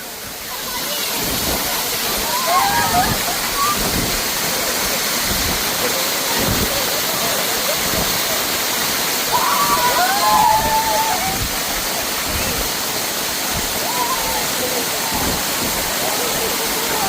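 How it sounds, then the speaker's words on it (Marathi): A loud, constant roar of falling water from a man-made waterfall at a nature school near Madhe Ghat, with faint voices and whistles drifting through the rushing noise. "निसर्ग शाळेचा एक उत्कृष्ट असा धबधबा त्यांनी स्वतः बनवलेला पहा"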